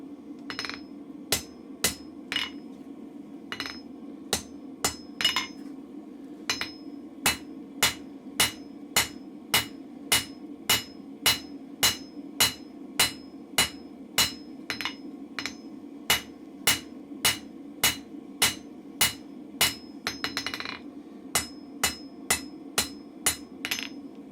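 A blacksmith hammering hot steel while forging a chisel: a long run of crisp, ringing hammer strikes in a steady brisk rhythm, with a few short pauses and quick double blows, close and clear over a low hum.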